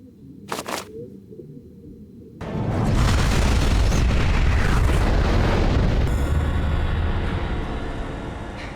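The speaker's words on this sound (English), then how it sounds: "Explosion flash to white?" An explosion in the video game Prince of Persia erupts after a quiet moment, a loud deep boom that swells into a sustained roaring rumble and slowly fades.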